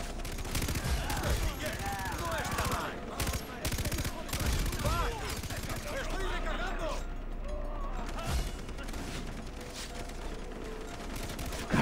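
Gunfire from a Far Cry 3 co-op match: dense, rapid bursts of automatic shots and mechanical clicks rattle continuously at moderate level, with a voice talking over the shooting.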